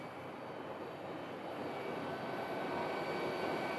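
Jet airliners waiting for pushback at Phoenix Sky Harbor airport, their engines giving a steady, fairly faint broadband roar from a distance, with no talk.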